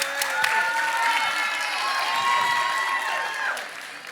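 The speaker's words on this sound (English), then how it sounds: "Keep that applause going" A theater audience applauds and cheers for the cast of Ujima Theater Company's production, a dense, steady wash of clapping with whoops and shouts rising over it for about four seconds before it starts to thin.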